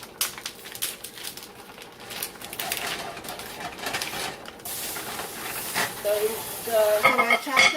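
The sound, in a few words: ground beef and onion frying in pan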